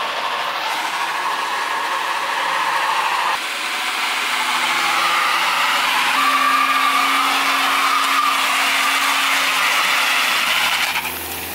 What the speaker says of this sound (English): It's the slowest burnout ever.